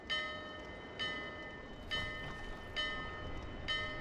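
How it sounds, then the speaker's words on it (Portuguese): A bell in Dark Souls 2 rings out to summon the boss, sounding five evenly spaced metallic clangs, each with a long ringing tail, moderately loud and alone. "Aqui já é o sino."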